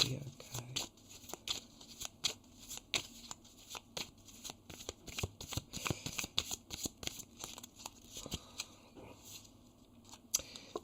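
Tarot cards are shuffled steadily and close by, a long run of quick papery riffles and soft slaps repeating in an uneven rhythm, fairly quiet throughout.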